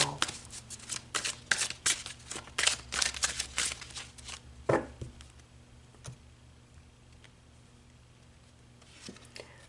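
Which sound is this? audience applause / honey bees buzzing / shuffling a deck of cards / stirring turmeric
shuffling a deck of cards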